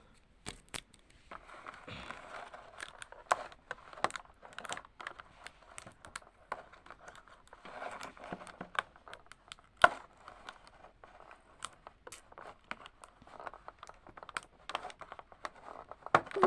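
A gift package wrapped in lots of tape is pulled open up close, with irregular crackling, ripping and sharp snipping clicks in quick, uneven bursts.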